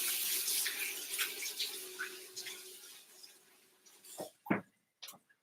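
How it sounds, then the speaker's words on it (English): A kitchen tap runs while hands are washed, a close hissing stream that fades, then a few brief splashes and drips near the end. "Let me wash my hands."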